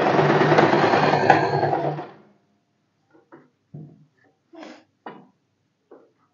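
A sewing machine runs a double stitch along a blouse strip, a steady rattling whir for about two seconds, then stops, followed by a few faint scattered clicks and handling taps.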